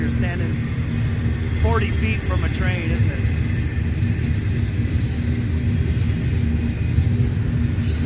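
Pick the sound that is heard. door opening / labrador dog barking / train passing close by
train passing close by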